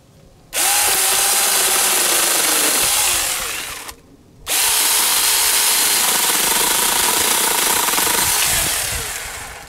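Mini chainsaw cutting a small piece of wood, a loud high buzzing whine that runs about three seconds, drops briefly, then resumes steadily, very close.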